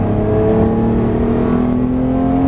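A Lamborghini LP640 engine roars steadily at high revs at full throttle on a racetrack, loud and close, holding a strong sustained pitch throughout with no voices.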